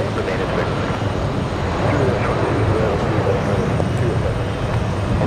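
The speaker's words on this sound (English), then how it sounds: "We have Air Serbia taking off" An Air Serbia airliner takes off at JFK airport, a steady broadband jet roar that holds at moderate distance throughout, with a voice faintly heard beneath.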